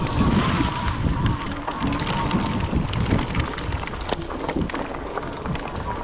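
A budget e-bike splashes through a muddy puddle, giving a continuous loud spattering and sloshing with wind rumble across the microphone.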